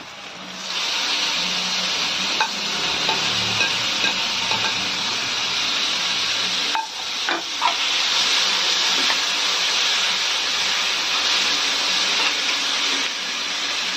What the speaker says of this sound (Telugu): ఇలా ఉల్లిపాయలు కొద్దిగా వేగిన తర్వాత ఇందులోకి టమాటాలు కూడా వేసుకోవాలి